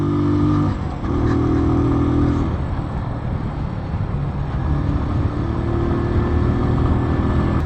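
A Keeway Cafe Racer 152 motorcycle engine drones steadily as it climbs uphill, loud and close, with shifting engine pitch and continuous wind and road noise throughout.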